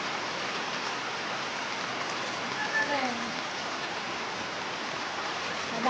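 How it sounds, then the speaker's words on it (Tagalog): Heavy rain pours steadily in Pangasinan beside a pig pen, a dense continuous hiss with no breaks, holding at an even loudness throughout. "Kaya lang, ang lakas ng ulan."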